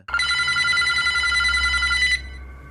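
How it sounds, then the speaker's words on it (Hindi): An old telephone bell rings loud and close in one unbroken, rapid metallic trill lasting about two seconds, then cuts off into a brief fading ring. "तीसरे कमरे में टेबल पर रखा तीसरा टेलीफोन भी बजने लगता है।"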